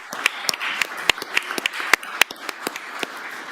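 Sparse hand claps ring out from an audience at a school committee meeting in Springfield, a loose scattering of separate sharp claps in an irregular rhythm from a small group.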